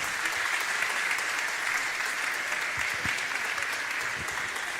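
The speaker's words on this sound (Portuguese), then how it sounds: "Você pode aplaudir o Senhor pela vida do pastor Rosalvo" Sustained applause from a large congregation at an evangelical church service, steady and even throughout, with no voices standing out.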